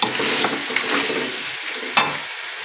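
Chicken pieces and potatoes being fried and stirred in a pan for an aloo chicken curry, a steady close hiss of sizzling oil with occasional scraping stirs.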